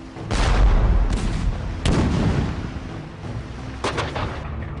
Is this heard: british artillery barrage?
yes